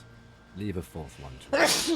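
A single loud sneeze bursts out near the end, right after a stretch of close speech in a video game.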